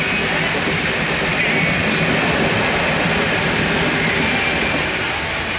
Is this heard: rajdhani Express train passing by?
yes